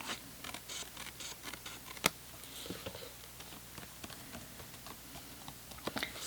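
Quiet, scattered snips and soft papery scrapes of scissors cutting along the edge of embossed card stock, with one sharper click partway through.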